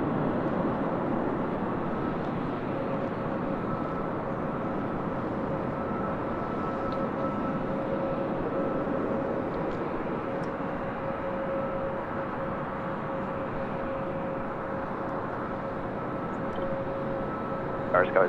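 An airplane turns and rolls toward runway 24 left, giving a steady, continuous engine roar with a faint whine that holds at an even level throughout.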